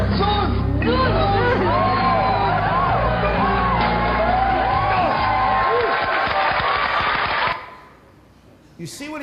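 Live audience at a TAM 2012 event, a loud crowd cheering and shouting together in a sustained roar that fades out near the end.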